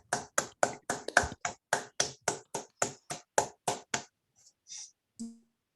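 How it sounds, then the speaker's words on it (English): Online audience applauding through unmuted microphones at the end of a mathematics talk on the Picard group: about a dozen crisp, evenly spaced claps from one nearby source, then a few faint scattered taps and a lone soft clap. "Can we all please unmute ourselves and give Jesper a round of applause?"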